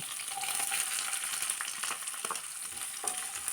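Halved small shallots, dried chillies and curry leaves fry in a pan while being stirred, a continuous crackling sizzle with scraping strokes of the spoon, close and alone.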